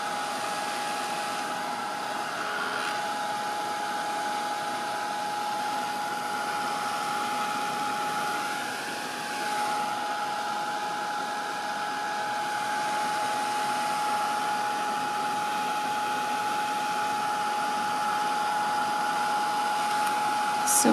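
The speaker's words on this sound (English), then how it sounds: "it moves the inks when you heat dry it and you get a slightly different effect." A heat tool blows steadily while drying PaperArtsy Infusions inks on an art journal page, a constant, fairly faint whirring hiss that holds level throughout.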